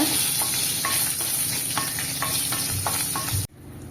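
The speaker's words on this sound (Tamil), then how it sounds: "அது நல்லா கலந்து விடுங்க" Okra buttermilk curry ingredients with dried red chillies being stirred in a hot pan, a steady oily sizzle under repeated soft scraping strokes close by, ending abruptly.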